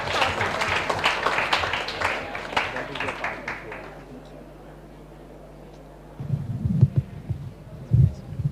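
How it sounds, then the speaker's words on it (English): A room of listeners applauds student presenters at a youth programme showcase; clapping fills the first four seconds, then quiets to near silence before noises and voices return. "So a round of applause for them."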